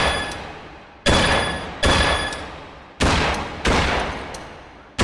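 Four loud simulated shots spaced about a second apart in a dry-fire shooting game, each a sharp crack with a decaying tail, with faint metallic steel-target rings between them.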